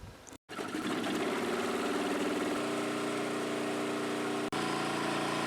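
A small engine drives a generator under a 4-amp electrical load, a steady close droning hum after a brief cutout at the start, with a slight shift in pitch midway and a momentary dip near the end.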